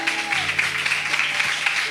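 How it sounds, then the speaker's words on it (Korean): Church congregation applauding at a 2026 vision proclamation service, a brief steady burst of clapping with a faint tonal hum beneath. "다시 한번 큰 박수로 격려해 주시면 감사하겠습니다"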